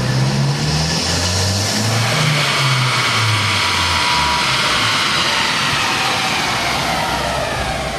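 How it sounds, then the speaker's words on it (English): A Mazdaspeed3 fitted with an AEM intake revs hard on a dyno, its engine note climbing and falling through sustained loud, close pulls with a broad rushing roar and no one speaking. "Alright, Greg, that was the final dyno run."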